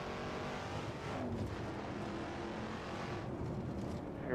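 A Shelby Cobra 427 V8 at full throttle in the Assetto Corsa racing game, a steady dense engine roar that stays loud and unbroken throughout with no talk over it.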